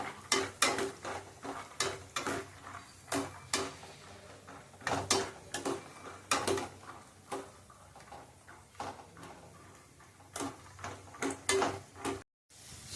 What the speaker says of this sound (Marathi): शेंगदाणे चांगले खरपूस होईपर्यंत भाजून चांगले घ्यायचे आपण.